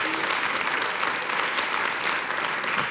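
A live audience at a money talk show breaks into loud, steady applause, a dense and continuous wash of clapping throughout.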